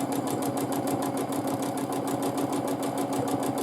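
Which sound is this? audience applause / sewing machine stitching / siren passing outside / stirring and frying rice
sewing machine stitching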